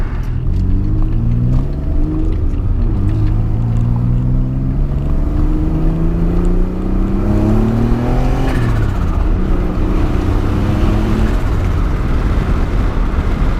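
A turbocharged Nissan J32 car engine roars steadily and close by under boost, its pitch sweeping up and down through the gears with a constant loud drone under the revving.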